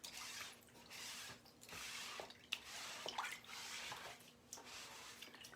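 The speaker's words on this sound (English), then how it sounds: "I just grab a bucket of water and I get the paste off the front of it" Craft paste is rinsed off the front of a silk screen in a bucket of water, making soft, repeated swishing and splashing strokes close by, with small drips between them.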